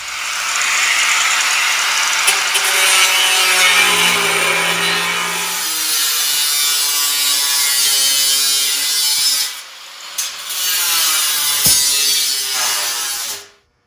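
A belly pan panel is cut for a VW Bus with a Subaru engine swap, a continuous harsh buzzing and rasping cut that runs close and loud for most of the clip, then stops abruptly near the end.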